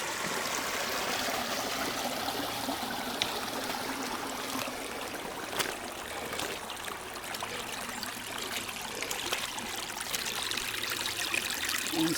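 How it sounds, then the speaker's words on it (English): Water gushes and trickles steadily through a dug trench on a homestead, making a continuous moderate rushing and gurgling with no talking. "Look at all that water gushing."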